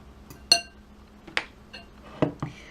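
A metal fork clinks against a bowl while mashing hard-boiled egg yolks, four separate sharp taps spaced unevenly, fairly close and clear, with no talking.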